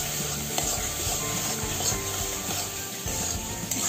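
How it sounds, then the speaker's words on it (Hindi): Finely chopped tomatoes hitting hot spiced oil for dhaba-style dal tadka, a dense continuous sizzle with faint scraping of a spoon stirring in the pan. "अब इसमें 2 से 3 बारीक कटे हुए टमाटर डालेंगे।"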